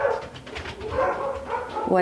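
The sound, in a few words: dogs barking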